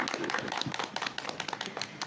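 A school class claps together in a fast, dense patter of applause, close and steady throughout.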